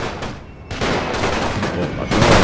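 Musket volleys in the video game Total War: Napoleon crackle as loud, dense rolling gunfire, a brief lull giving way to sustained ragged bursts, with a voice talking faintly underneath.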